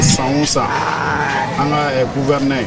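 Several sheep bleat in overlapping, wavering calls at close range during an outdoor distribution of sheep to a Muslim community, with voices chattering underneath throughout.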